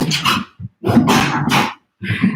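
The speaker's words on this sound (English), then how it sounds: "Our dogs are going crazy down there" Dogs bark loudly and close in several sharp bursts separated by short silences, one brief yip between them, sounding agitated and excited from somewhere below.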